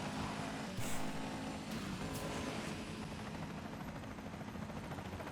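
Police helicopter in a driving video game set in Scotland, a steady rotor drone with engine whine running continuously under game audio, fairly loud throughout.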